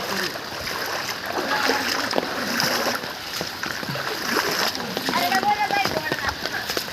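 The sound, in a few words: wading and splashing through floodwater inside a house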